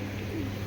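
Soft, low cooing from black-necked Tota pigeons, a brief murmur faint against background noise.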